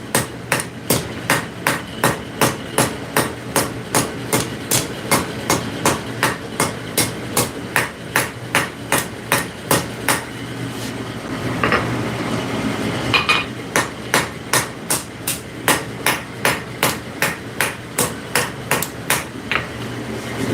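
Light hammer blows ring on hot metal at a forge, where a piece is being fine-tuned before a twist: dozens of quick, evenly spaced, bright metallic taps that pause briefly in the middle and then resume.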